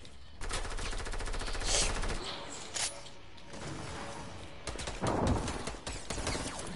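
Bursts of rapid gunfire and sharp single shots from a PS4 video game shootout, crackling rattles and loud cracks layered over game ambience, fairly dense and near.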